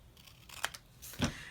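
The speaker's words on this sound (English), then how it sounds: "So I cut the top and bottom off like this with regular scissors." Regular scissors cutting paper ephemera, two quiet crisp snips close up in a hushed room.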